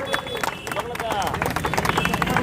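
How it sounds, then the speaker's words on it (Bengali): An audience at a public gathering claps in welcome, with scattered, uneven claps under loud voices and general hubbub. "সবাই করতালি দিয়ে সম্বর্ধনা দেবেন"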